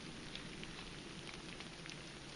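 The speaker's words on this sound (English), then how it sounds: "it's still raining" Steady rain falls in the mountains at around 4,000 feet with snow nearby, a continuous dense hiss of drops pattering on surfaces, close and even throughout.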